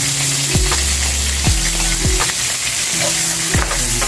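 Garlic sizzles in a frying pan while pork giniling is being cooked, a steady loud crackle running throughout with a few low clanks from a utensil against the pan.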